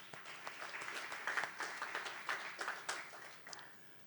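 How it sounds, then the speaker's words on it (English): Auctioneers at an auction industry conference clap for themselves, giving a faint, somewhat distant round of applause with scattered individual claps and no clear voices. "So I would give yourselves a clap for that"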